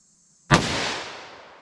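A single sharp revolver shot in a 10mm versus .357 Magnum comparison, loud and close, with a sudden crack that rings out into a long fading tail after brief quiet.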